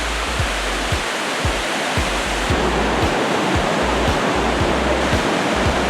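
The white water rapids at Niagara Falls roar continuously and loudly, a dense broadband torrent, with low thumps beneath it.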